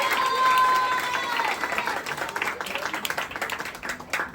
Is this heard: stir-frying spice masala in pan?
no